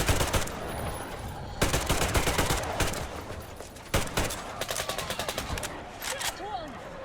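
Gunfire erupts in the video game Metro Exodus in repeated close bursts of automatic fire, with rapid rattling strings of shots between louder blasts and brief voices in the mix.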